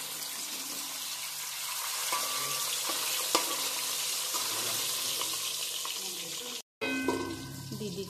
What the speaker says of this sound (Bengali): মিডিয়াম ফ্লেমে আমি ঢাকা দিয়ে মাছগুলোকে ভেজে নেব